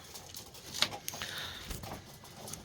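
Embroidered pigeons shuffle and coo in their coop, with soft wing patter and scattered bird calls close by. Faint voices sit in the background.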